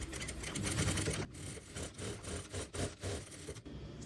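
A domestic sewing machine runs a long gathering stitch at maximum stitch length, a busy mechanical whir that starts steady and then breaks into short bursts with brief pauses between runs.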